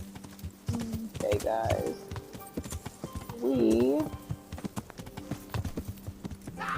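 Horse hooves clip-clopping in Kingdom Come: Deliverance, the medieval role-playing game, during a siege: a steady trotting rhythm of close hoof beats, with a horse whinnying twice and someone talking over it.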